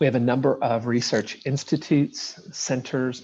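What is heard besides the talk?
No everyday noises stand out.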